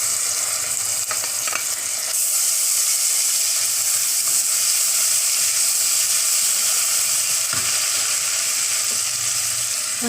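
Ginger garlic paste frying in a hot pan after ground spices for a mushroom biryani, giving a steady loud sizzle with occasional stirring scrapes throughout, and no voices.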